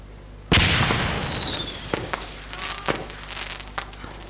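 Bomb explosion in Far Cry 6: one loud sudden blast with a long rumbling tail, then scattered crackles and pops that die away, no talking.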